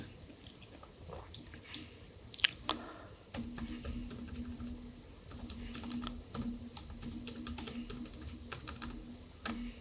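Numbers being typed on a computer keyboard for a spreadsheet, close and quiet, with irregular runs of sharp key clicks and a few heavier taps, no voices.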